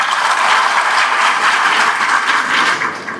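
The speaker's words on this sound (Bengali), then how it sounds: "শ্রদ্ধেয় হুমায়ুন ফরিদের জন্য একটা হাততালি হোক।" Audience applause for a celebrated film and television actor at a talk event, a dense, steady roll of clapping hands filling the room and easing off slightly at the end, with no talking over it.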